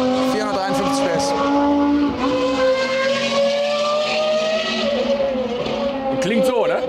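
A Ford Mustang Dark Horse with 453 PS runs on a race track, its engine holding a loud sustained drone with slowly shifting pitch, while voices talk over it.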